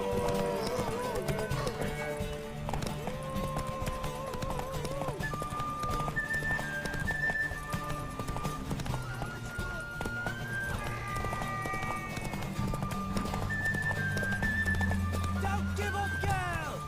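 Horse hooves clip-clopping in the video game The Witcher 3: Wild Hunt, a steady galloping rhythm buried under loud orchestral music with voices speaking over it throughout.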